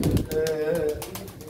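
Pigeons coo at a Turkish pigeon auction in Çorum, a steady warbling tone that runs through most of the moment over crowd murmur, with a voice briefly audible near the start.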